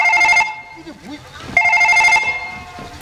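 A telephone rings in two short electronic bursts, close and loud, during a Bengali gajan folk stage performance, with voices speaking and music faintly around it.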